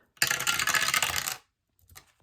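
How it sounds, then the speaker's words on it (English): Dice rattle and tumble across a surface in one close, loud roll lasting about a second before stopping. "So roll a dice and write in the number that we save."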